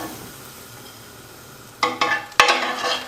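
Bacon strips frying in a pan for a rib-and-cabbage dish, starting from quiet, then a few sharp crackling bursts of sizzle and spatter that keep going, loud and close.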